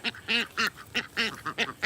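Ducks quack in a rapid series of about eight loud, nasal calls close by, at a farmyard the morning after a storm, with no talking over them.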